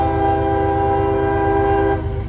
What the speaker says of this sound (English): When we get this train here coming up at CSX,